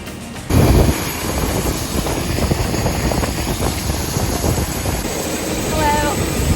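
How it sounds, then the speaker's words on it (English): A helicopter on a doors-up ride over Maui makes a loud, continuous roar mixed with heavy wind buffeting. The noise stays steady and close throughout, with no clear speech. "We're about to go on a doors up helicopter ride."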